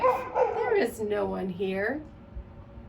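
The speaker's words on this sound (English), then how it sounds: "That's my dog Winston." Winston the dog gives a few short whimpering yips and barks mixed in with a voice speaking nearby, the dog sounds rising and falling in pitch over a couple of seconds.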